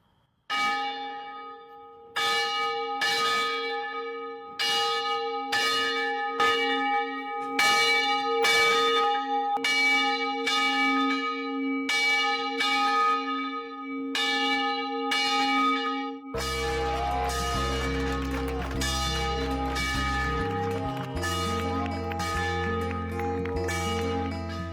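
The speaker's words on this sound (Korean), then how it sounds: "특별히 종을 울리는 거룩한 퍼포먼스가 연출되었습니다" A church bell in a 125-year-old bell tower with a tiled hip-and-gable roof rings in loud, evenly spaced strikes, each leaving a long humming decay, then a denser stretch of overlapping tones and low hum follows; no one speaks.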